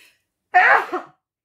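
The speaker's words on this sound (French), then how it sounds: "j'ai encore éternué comme d'hab" A single sharp sneeze, close and clear, bursts out after a moment of silence, with a brief second gust trailing off at the end.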